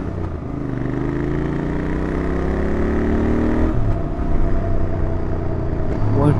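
A car with a 1-litre TSI engine drives through heavy traffic, its steady engine drone rising in pitch as it accelerates, then easing back.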